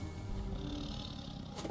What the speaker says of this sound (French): Il y a un lion, les gars.